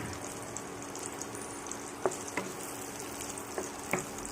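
Two chopped onions fry in heated oil in a pan for a chana dal masala curry, a soft, even sizzle with a few faint clinks, quiet and without voices.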